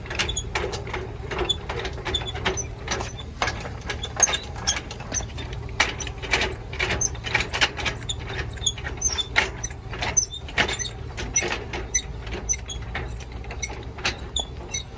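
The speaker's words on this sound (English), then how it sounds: "we're going to drop the jack down" A trailer tongue jack is cranked down toward the hitch ball on a tow setup with a Tahoe, making a long run of quick, rhythmic ratcheting clicks and squeaky mechanical whirring up close.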